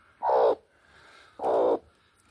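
A mother hen sits over two newly hatched chicks in the coop, giving two short, close, low murmuring clucks separated by a brief quiet gap.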